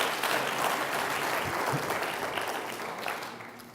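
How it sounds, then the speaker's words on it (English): Audience at a community consultation evening breaking into warm applause, a dense burst of clapping that swells quickly and gradually tapers off. "Bit of a clap, ladies."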